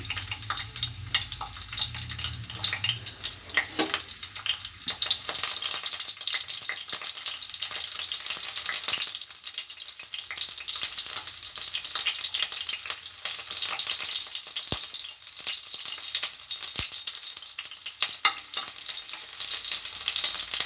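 Halved onions for sambar sautéing in hot oil in an iron kadai, a steady close crackling sizzle with occasional stirring scrapes throughout, no voices.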